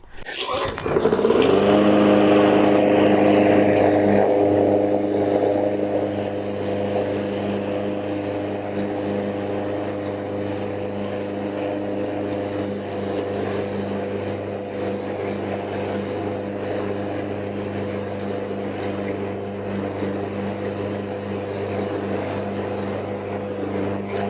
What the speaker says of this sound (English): get an idea as to how noisy this is mowing the yard